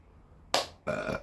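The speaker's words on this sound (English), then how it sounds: "Pepper burp right at the end." Two quick, close burps after eating extremely hot Reaper and Trinidad Scorpion peppers, a short gulp-like belch followed by a slightly longer one, loud against a quiet room.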